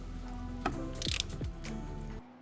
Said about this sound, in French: je préfère prendre une clé à cliquer avec une douille de 27. C'est moins chiant. On dévisse ça doucement net.